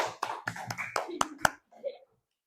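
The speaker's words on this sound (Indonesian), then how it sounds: "Kasih tepuk tangan untuk kelompok Bangkit" Brief scattered hand claps from a small group of students in a classroom, a handful of sharp close claps over a couple of seconds that fade to quiet, with faint talking mixed in.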